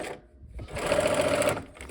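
A home sewing machine stitches steadily along a seam allowance, its needle running in a quick continuous rhythm for about a second after a brief pause, close and fairly loud.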